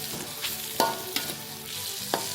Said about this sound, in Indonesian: kita masak lagi setelah masuk tomat sampai tomatnya itu lembut